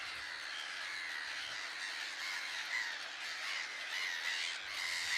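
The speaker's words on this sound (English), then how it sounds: "This tiny piece of land is home to a big bird colony." Large colony of gulls and cormorants on Musambwa Island in Lake Victoria, a dense distant chorus of overlapping squawks and calls that continues without a break, with no talking.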